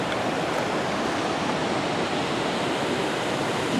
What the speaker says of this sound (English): This is Valley Falls on Tygart River.